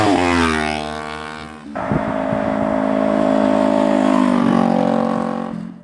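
Kawasaki Ninja 400 motorcycle with a slip-on exhaust revving hard and then cruising on a road, a loud steady engine drone with a gear change partway through.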